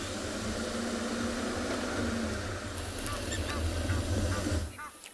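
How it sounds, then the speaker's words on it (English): Egyptian geese honk repeatedly over a steady outdoor rumble at a dam at sunrise, with a few sharper metallic blacksmith lapwing calls joining toward the end, moderately distant. "Listen to these wonderful, wonderful sounds. Egyptian geese, blacksmith lapwings here at Treehouse Dam."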